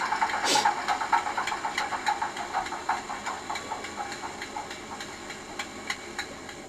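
A sound-fitted model Class 47 diesel locomotive on a station layout winds down, its rhythmic knocking engine beat slowing and fading steadily after a brief hiss near the start.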